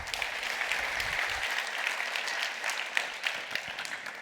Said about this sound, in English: wait a bit before you start clapping